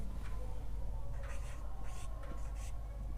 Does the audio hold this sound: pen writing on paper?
yes